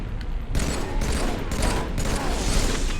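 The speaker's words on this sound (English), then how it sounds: "take them out with your battle rifle" Sustained battle rifle fire in Halo 3 on Xbox 360, loud dense bursts of shots repeating in quick volleys with a clatter of battle noise throughout.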